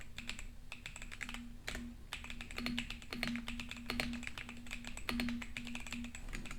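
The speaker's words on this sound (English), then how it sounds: "I'm going to type my name here or program." Typing on a computer keyboard: quiet, close, irregular clicking keystrokes in quick runs with brief pauses, alone over a faint steady hum.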